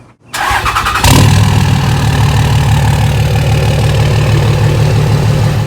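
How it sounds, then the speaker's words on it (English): A vehicle engine cranks briefly, then catches and settles into a loud, steady idle close by, with no talking. "I do owe you guys a cold startup, but here's a startup anyway"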